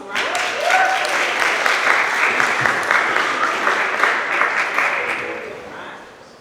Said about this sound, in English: Let's give Karl a round of applause